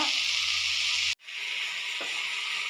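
Moringa leaf thoran with salt stirred in a pan gives a steady close sizzling hiss, with a brief cutout partway through and a faint scrape soon after.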